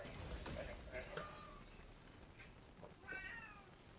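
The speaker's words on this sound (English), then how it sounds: "I hear you, kitty. I hear you." A cat meows several times at intervals, short and fairly faint, against a noisy background with soft bumps and movement.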